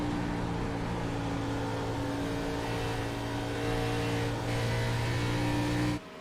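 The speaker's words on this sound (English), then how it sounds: "Hear him double clutching that car, probably saving some fuel." A video game stock race car engine at Dover drones steadily with a strong low hum, holding near-constant revs while double clutching before cutting out abruptly at the end.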